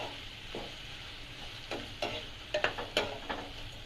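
Rava kichadi vegetables with salt stirred in a pan, a soft background sizzle broken by a few quick scraping and tapping strokes of a spoon, fairly quiet.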